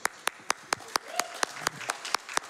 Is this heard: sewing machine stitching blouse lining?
no